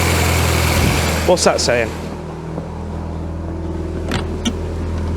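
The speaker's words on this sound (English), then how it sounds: "that's a much more reasonable 1200 RPM, which is what we want. Listen to it." A VW Scirocco MK2 engine idles at about 1200 RPM, a steady low hum close by, with a short spoken question near the start and a few faint clunks over the running engine.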